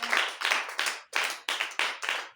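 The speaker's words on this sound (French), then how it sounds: "Applaudissez pour le nom." A church congregation at a French-language Bible class claps in rhythmic bursts, about eight sharp, even rounds of applause over two seconds, close and lively, with no speech.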